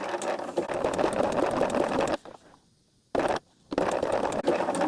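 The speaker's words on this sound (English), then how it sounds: "But I'm just doing that edge stitch." A sewing machine runs an edge stitch along fabric in loud, steady bursts, stopping briefly twice before whirring on again close up.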